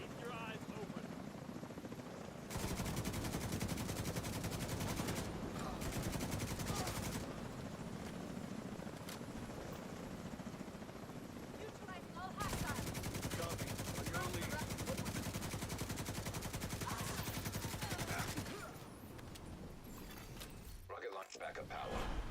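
Sustained gunfire in the video game Division 2, with loud bursts of automatic fire running through most of the stretch under a steady mechanical drone, easing off briefly before resuming, while someone talks over it.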